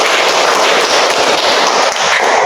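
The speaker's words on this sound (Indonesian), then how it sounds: "tepuk tangan buat kelompok 1" A class of students applauds group 1 during a school lesson. The clapping is loud, dense and steady, filling the whole stretch without pause.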